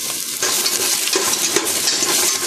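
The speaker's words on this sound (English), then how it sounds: "Got some slices of ginger I'm going to put in there, so it's fairly large slices." Fairly large ginger slices sizzle steadily in hot cooking oil in a wok, a dense continuous frying hiss that holds loud and close after a brief quieter start, with no talking.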